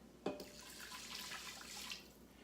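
A cup of water poured into a quick cooker pot, opening with a short splash and followed by a faint, steady trickle and burble that fades after about two seconds.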